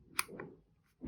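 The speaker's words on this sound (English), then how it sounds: "The opening and folding of the headphone is also very cool" Tribit XFree Tune wireless headphones being opened and folded give a couple of quick plastic clicks and snaps at close range, followed by a soft rustle of handling.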